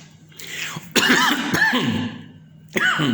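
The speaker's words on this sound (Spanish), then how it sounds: "perdón por mi tos" A few harsh coughs in quick succession, close and loud, separated by brief pauses with a short throat-clearing sound.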